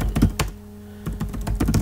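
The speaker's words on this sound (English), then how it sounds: "I'll spell it for you by typing it in here." Rapid close-up keyboard typing, clicking keys in quick bursts with a short pause midway, loud and dry.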